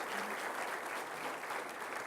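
A church congregation claps for the King of Kings during a Spanish-language service, a dense, sustained wash of applause from many hands that carries evenly throughout, with no clear voice above it.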